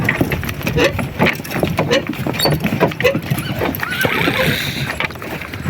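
Working draft horses in Ukraine neigh and clip-clop close by, with hoof beats and whinnies mixed with people talking nearby.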